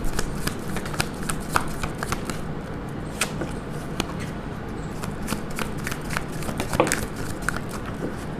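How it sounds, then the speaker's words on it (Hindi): A deck of tarot cards is shuffled by hand, giving a close series of crisp riffling and slapping bursts that repeat irregularly throughout, with no talking. "This is my last shuffle."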